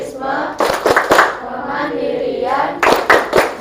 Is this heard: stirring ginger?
no